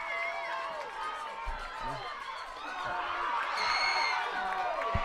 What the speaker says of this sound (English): Wildcat sideline, getting the crowd fired up, getting the team fired up